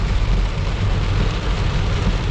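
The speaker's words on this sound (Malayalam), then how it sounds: "എനിക്ക് പറഞ്ഞാൽ ഭയങ്കര മഴയാണ്." Heavy rain drums steadily on a car near Gudalur, a dense, continuous roar of close noise with a low rumble underneath, no breaks and no voices.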